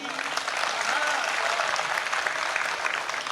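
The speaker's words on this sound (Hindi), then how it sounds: "और तालियां आपने पहले बजा दी, अगली लाइन में बजानी है।" Audience applause at a live Hindi comedy poetry show, a steady dense clatter of many hands clapping throughout, close and continuous with no pauses.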